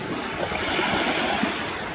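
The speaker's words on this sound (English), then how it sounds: "I go to the beach." Waves and surf on a beach make a continuous washing roar, mixed with wind buffeting the microphone, steady and fairly close, with no talking.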